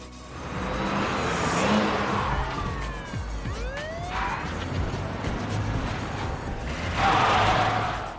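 Police cars with wailing sirens chase a taxi, engines roaring and tires squealing as the wavering sirens sweep past up close, in a busy action-movie soundscape with no speech.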